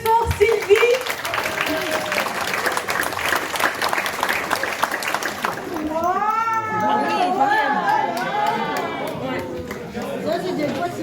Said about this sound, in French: on applaudit très fort Sylvie